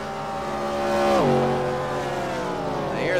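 Race cars in the iRacing video game, a loud, steady engine drone whose pitch drops sharply partway through and then holds, with no talking.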